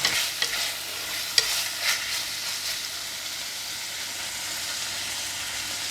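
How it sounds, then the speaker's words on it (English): Pork belly stir-fries with garlic and ginger in a hot pan, a steady sizzling hiss with a few scraping stirs and a sharp clack near the start, close and with no speech. "Now add in all pork belly. Stir fry for 30 seconds."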